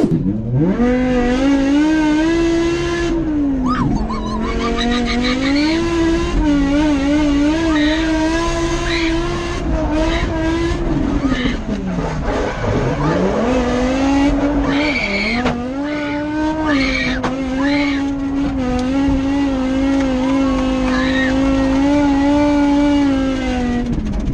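A professional drifter's car slides through a drift with his sister riding as a first-time passenger, the engine droning loud and steady with revving swells and tire squeal throughout, and occasional faint voices inside the cabin.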